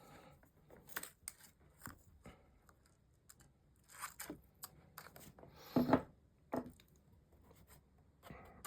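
Scissors cutting paper for a tunnel album craft, close and fairly quiet, a series of short snipping crunches at irregular intervals with a couple of louder rustling cuts near the end.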